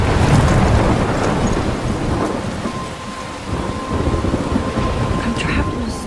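A heavy thunderstorm in the Life Is Strange video game, with dense, loud rain pouring steadily and deep thunder rumbling throughout, near and enveloping.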